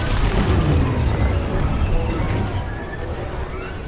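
Core detonation in Star Wars Squadrons, a loud crashing explosion with a deep, rumbling body that holds strong and then slowly fades over a few seconds.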